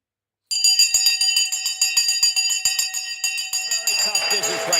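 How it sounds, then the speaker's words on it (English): A stock market opening bell rings in a close, loud and sustained metallic clang with rapid repeated strikes, ringing on for several seconds while a voice talks over it. "The bell is about to go."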